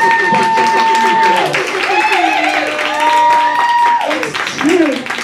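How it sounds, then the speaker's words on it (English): An audience at a burlesque benefit show applauds as a host keeps talking loudly over the clapping. "You should give yourselves a round of applause"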